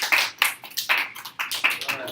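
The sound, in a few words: class applauding volunteers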